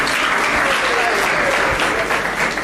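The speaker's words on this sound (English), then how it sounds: "A round of applause for Eric." Loud, close audience applause at a university youth employability forum, a thick continuous roar of clapping hands holding steady from start to finish.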